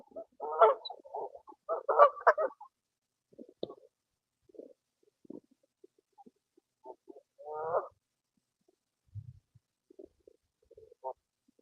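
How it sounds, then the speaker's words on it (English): Bursts of harsh bird squawks and clucks, loud at first then scattered and fainter, with short calls spread across a quiet background. "Did you hear them squawking?"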